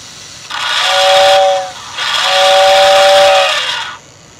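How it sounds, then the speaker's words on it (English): Two long, loud blasts from the whistle of a post-war steam locomotive built around 1948, each a steady airy tone with hiss, the second longer than the first, close by with nothing else over it. "I want to blow the whistle."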